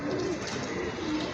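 A low, soft pigeon coo sounds close by against a steady background hum.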